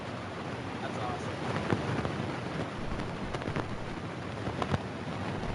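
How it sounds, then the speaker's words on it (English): Steady rain hiss with soft crackles and low rumbles of thunder comes through a player's open microphone in an online sim racing league voice chat, with someone talking over it. "is someone in a tropical storm over there?"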